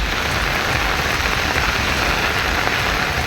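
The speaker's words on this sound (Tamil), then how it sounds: "பரவலாக மழை பெய்தது" Widespread rain falls in and around Perambalur villages, a dense, steady patter of drops on surfaces that stays loud and constant with no voices.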